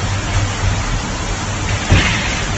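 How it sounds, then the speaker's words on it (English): Heavy rain falls steadily in a dense, even hiss, close and loud, with a brief low rumble near the end. "Stopped for a second, I can hear that it's definitely raining."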